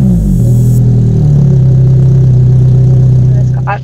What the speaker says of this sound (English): obviously the car's very loud inside